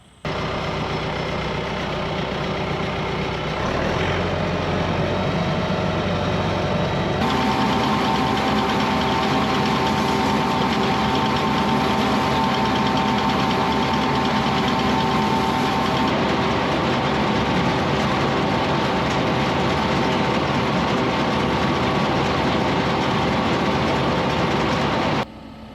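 A heavy tractor engine drones steadily and loudly throughout while hay baling, its tone shifting as it changes load partway through, with no talking.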